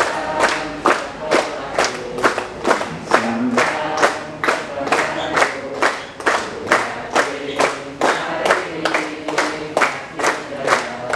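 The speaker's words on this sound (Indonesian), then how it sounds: "Sekarang sampai tepuk tangan." A group claps hands in unison at a school community gathering, about two sharp synchronized claps per second in a steady, even rhythm, loud and close throughout.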